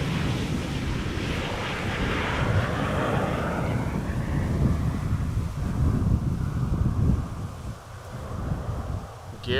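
An Airbus A350 airliner approaches to land at Amsterdam Schiphol Airport on a sunny day. Its broad, rumbling roar is moderately distant and mixed with gusty wind noise on the microphone.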